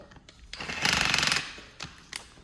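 A power drill whirs in a short loud burst as it backs screws out, with quieter mechanical clicks and taps before and after.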